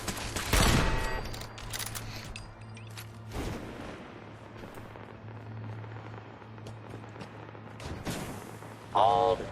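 Automated turrets open fire in Fallout 4's Nuka World, sharp bursts of gunfire crackling in a few clustered volleys among quieter stretches, with a person talking between shots.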